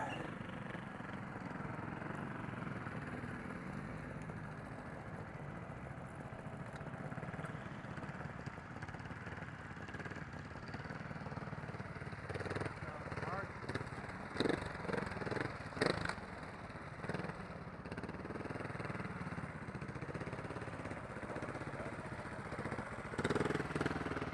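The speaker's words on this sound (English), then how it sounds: "Mark Franklin on his Beta 4-stroke." A Beta four-stroke trials motorcycle engine at a national trials event in California hums steadily at a distance for a long stretch, with a few louder throttle blips near the end and faint crowd sounds around it.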